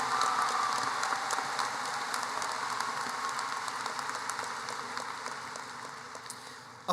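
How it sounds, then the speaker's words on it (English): A graduation-ceremony audience at Seckman High School gives a steady, dense round of applause for the 2023 Bright Flight recipients and their parents, starting full and slowly tapering over several seconds. "Let's have a round of applause for the 2023 Bright Flight recipients and their"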